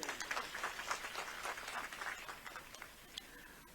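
Rally crowd applauding at a Shri Guru Ravidas Mahasabha gathering in Mahasamund, a quiet, somewhat distant patter of many hands clapping that tapers off after a few seconds.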